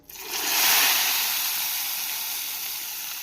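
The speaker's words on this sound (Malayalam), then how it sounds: "നമുക്കിത് കറിയിലേക്ക് ഒഴിച്ചു കൊടുക്കാട്ടാ ഈ താളിച്ചത്" Hot spice tempering poured into a prawn and ambazhanga curry gives a sudden loud sizzle that peaks, then settles into a steady hiss with no voices.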